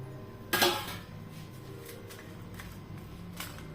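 Whole dry spices (coriander, cumin, black pepper and cloves) are poured into a pan for dry roasting. One brief, close, rattling pour is followed by a few faint small clinks and taps, with no talking.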